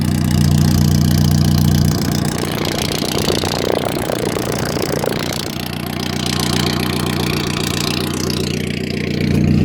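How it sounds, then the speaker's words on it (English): A 1994 Suzuki Sidekick mud truck's loud, rumbling exhaust idles steadily close by, a deep continuous throb with slight swells and no talking. "But here's the exhaust. It's loud as shit."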